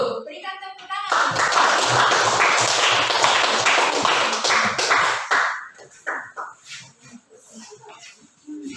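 A classroom audience claps after a group presentation, bursting in at about one second into dense, loud applause that holds steady before thinning into scattered claps and fading near the end.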